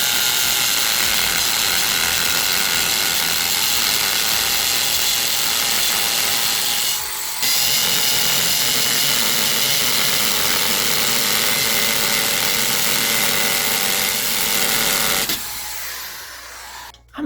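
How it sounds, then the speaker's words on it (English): A corded hammer drill runs continuously at high speed, grinding steadily into concrete posts with one brief pause, then winds down and stops near the end. "we're going to be drilling into some concrete posts"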